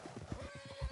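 A horse whinnies in Red Dead Redemption 2, a short, fairly close neigh with faint hoof clip-clop and game ambience underneath, no talk.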